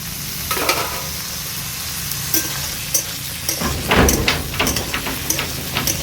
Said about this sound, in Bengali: ডালের বড়িগুলো ভাজা হয়ে গেছে, দিয়ে দিচ্ছি আলু আর বেগুন।